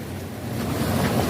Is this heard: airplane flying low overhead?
no